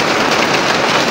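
Steady rain falling on plants, a dense, hissing patter with no distinct drops standing out, loud and close throughout with no talk.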